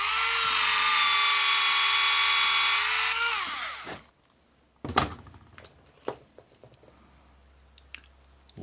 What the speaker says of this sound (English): get my little handy drill